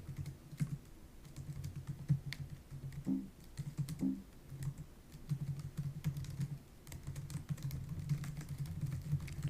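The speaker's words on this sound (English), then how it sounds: "We basically type in the following commands." Commands are typed on a computer keyboard, a steady run of quick, close key clicks with brief pauses, carrying on over a low electrical hum and no talking.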